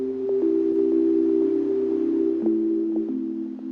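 Lo-fi hip hop sample with slow echo modulation and reverb, sustained warm chord tones that shift pitch a few times, with soft plucked accents, steady and close with no talk.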